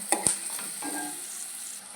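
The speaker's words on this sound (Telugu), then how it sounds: "దీన్ని కూడా కొంచెం ఫ్రై అయ్యేలాగా ఆయిల్ ఫ్రై చేసుకోవాలండి." Grated carrot and onion fry in oil with a soft, continuous sizzle, punctuated early by two quick metallic clinks of a spoon against the pan, all brief and close.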